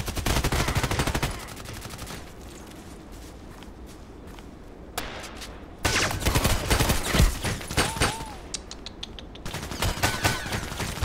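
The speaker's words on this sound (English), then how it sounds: "Four guys shooting at me." Rapid gunfire from several shooters in the online shooter game Contract Wars, with dense bursts and single shots crackling through most of the stretch, a brief quieter lull in the middle, and footsteps mixed in.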